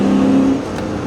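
A Chevrolet SSR roadster's engine revs with a loud, close, low droning note that holds, then eases slightly and continues at a lower, steady level.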